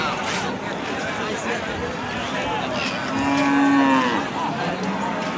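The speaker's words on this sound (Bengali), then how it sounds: "বিশাল বিশাল গরু বাছুর উঠে রানীগঞ্জ হাটে।" A loud, drawn-out cow moo rises above the steady chatter of a busy outdoor cattle market crowd, with another lower bellow briefly after.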